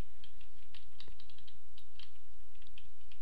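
A clackety computer keyboard is typed on in quick, uneven bursts of sharp key clicks, close and fairly quiet, with no talking.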